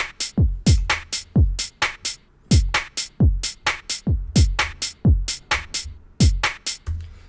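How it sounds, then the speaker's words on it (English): The Cash hat sample in Ableton Live plays a UK garage drum pattern with the hi-hat on every offbeat. Crisp hat ticks alternate with booming kicks that fall in pitch, in a steady shuffling loop. "the hat falls on every offbeat"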